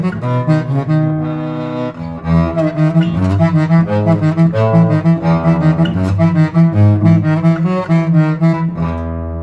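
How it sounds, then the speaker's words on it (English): Low adjacent strings of a guitar bowed with a Pickaso bow give a warm, cello-like tone: sustained, overlapping notes that swell and shift steadily, loud and close, with no talking. "The next technique I want to show you is an adjacent string technique on the lower strings of the guitar, which is in the cello range"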